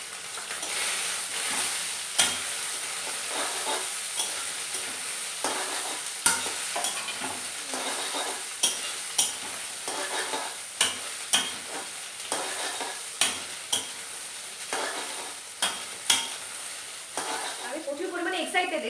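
Potatoes and soybean chunks sizzle and hiss steadily in a frying pan, with a spoon scraping and stirring at regular intervals throughout.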